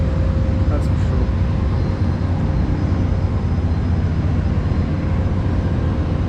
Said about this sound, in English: And there's the jet, which is probably trying to take off soon.